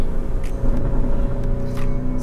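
A Novitec-tuned Lamborghini Urus with a V8 engine holds a steady low rumble, close and fairly loud, with no clear revving and no talk over it.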